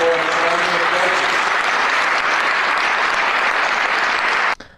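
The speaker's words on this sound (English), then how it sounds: "And there was a lot of applause there" Sustained crowd applause fills a warm indoor hall after Governor Charlie Baker's inauguration speech, loud and steady throughout before cutting off sharply near the end.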